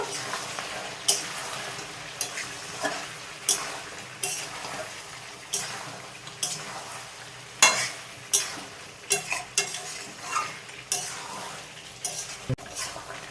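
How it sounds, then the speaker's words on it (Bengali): Country chicken meat frying in a pan, stirred with a utensil that scrapes and clinks against the metal at a steady rhythm of strokes over a continuous close sizzle. "একবার আমি ঢাকা খুলে নাড়াচাড়া করে নেব"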